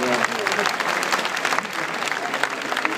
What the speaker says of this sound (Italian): Facciamo un applauso all'umanità.